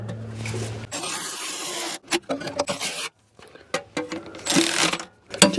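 A ratchet tightening starter motor bolts on a GM 5.3L V8 truck, with close, loud bursts of rapid clicking and rasping strokes broken by short pauses as the bolts are alternated.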